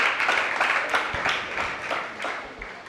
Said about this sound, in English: give these kids a round of applause